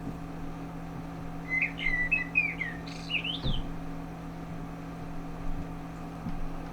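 A small bird chirps and warbles indoors inside a house, a burst of high twittering calls in the middle over a steady low household hum, then fading to just the background drone.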